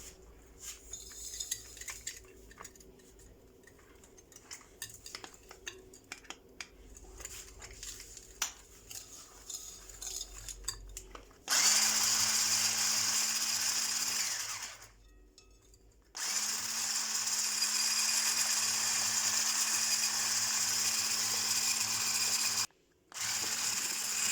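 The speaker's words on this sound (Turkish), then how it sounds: "İçerisine 2 yumurta, bir su bardağı şekeri beyazlayana kadar çırpıyoruz." An electric hand mixer whisks two eggs with a cup of sugar in a mixing bowl. Faint clinks come first, then the motor starts with a loud steady whir, halts briefly, and runs again.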